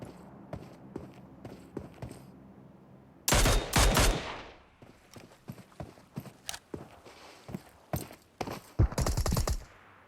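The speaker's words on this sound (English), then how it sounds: "nice shots being fired" Gunfire from the video game PUBG Mobile in a tournament finals match: rapid bursts and single cracking shots, with one loud sustained volley, scattered across the clip over faint background noise.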